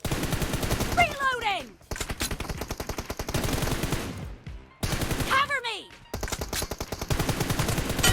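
Bursts of rapid automatic gunfire in PUBG crackle at a steady pace in two long volleys, broken by short pauses, close and loud, with whooshing game effects sweeping through.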